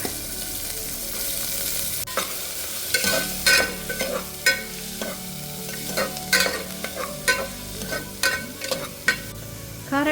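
Cashews and chopped onion fry in ghee with a steady soft sizzle, broken by repeated sharp clinks and scrapes of a spoon stirring the pan at an uneven rhythm, close up with no talking.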